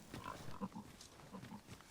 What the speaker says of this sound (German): Noch ein Schweinchen.